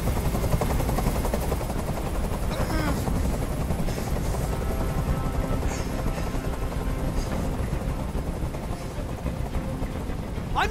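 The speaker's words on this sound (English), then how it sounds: "I can't stand that noise anymore. Tell that helicopter to get out of here." A helicopter hovers overhead during a tense hostage scene in the video game Detroit: Become Human, a loud steady rotor drone filling the scene with a few faint sharp accents.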